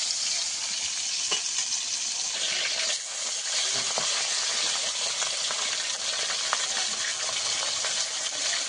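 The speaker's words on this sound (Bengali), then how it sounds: "এক পিঠ উল্টে দিয়েছি, এবার ভালো করে ভেজে নেব।" Pomfret fish pieces fry in hot oil in a pan after being flipped to the other side, giving a steady, even sizzle and crackle that runs the whole time with no talking.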